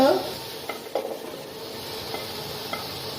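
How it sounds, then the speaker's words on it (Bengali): Eggplant and potatoes fry with spices and green chilies in a pan, a steady close sizzle under a few scraping stirs with the utensil knocking against the pan. "ভালো করে একটু নাড়ছে যাতে সবজির ভিতরে মশলাটা একেবারে ঢুকে যায়"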